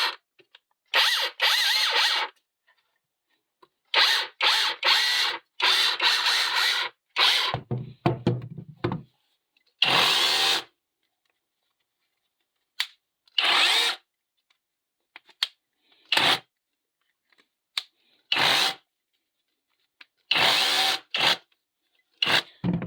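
Reassembled rotary hammer drill bought from AliExpress, tested outdoors in short repeated bursts of whirring and hammering, loud and close, with pauses of silence between runs.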